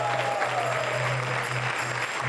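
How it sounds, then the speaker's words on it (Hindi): Steady applause from a quiz show audience at a Hare Krishna Mission event on Sanatan Dharma, a continuous even wash of clapping filling the room with no voices over it. "तालियां बजाइए जानकारी के लिए"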